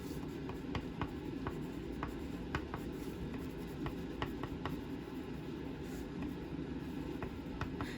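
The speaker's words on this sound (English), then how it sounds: "Then you can write your message." Pen writing a message inside a handmade Mother's Day card, a steady soft scratching on paper with faint taps, close and continuous with no talk.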